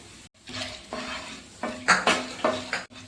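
Whole cardamom pods, cinnamon sticks and star anise are stirred in a hot pan for a chicken stew, giving close scraping and clinking bursts with a faint sizzle underneath.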